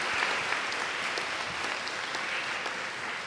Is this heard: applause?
yes